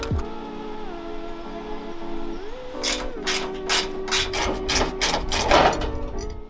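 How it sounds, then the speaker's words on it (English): A small ratchet works on an exhaust hanger bolt under a Mitsubishi Delica 2.8TD L400, a rapid run of close, crisp ratcheting clicks over a steady droning background whine. "you probably want a small socket like this on a small ratchet"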